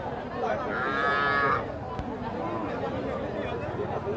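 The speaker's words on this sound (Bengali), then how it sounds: "এই পর্যায়ে ছোট্ট বাছুর দেখছি আমরা সাদা" A small white bull calf moos once at a busy livestock market, a clear drawn-out call over crowd chatter and nearby voices.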